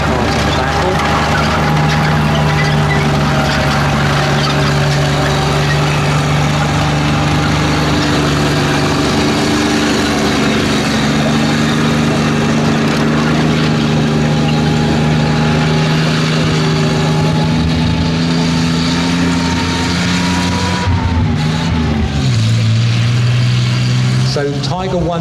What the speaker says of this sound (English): I'll let you listen to the engine note as it drives around.